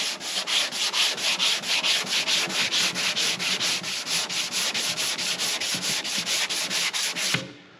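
Sandpaper rubbed by hand up and down over hardened body filler on a Ford XP Falcon panel during a budget restoration, a steady rapid rasping stroke rhythm, close and fairly loud, stopping abruptly near the end.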